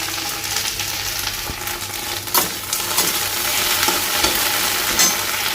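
Okra (bhindi) fries with onion and potato in a pan, giving a steady, close sizzle with stirring scrapes and a few louder spatula knocks throughout, no talking.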